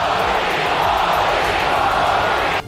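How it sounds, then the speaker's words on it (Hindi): A huge crowd packed into Sydney Olympic Park roars loudly and continuously at an event for India's prime minister, a dense sustained wall of voices. "और जैसे ही भीड़ ने पीएम को देखा, मोदी मोदी सुनाई देने लगा।"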